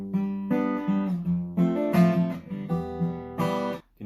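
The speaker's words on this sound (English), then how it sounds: "in between them he mutes the strings and does a little bit of this" A guitar strums chords in a repeating rhythm, each strum followed by a brief percussive mute of the strings, close and clear with no voice.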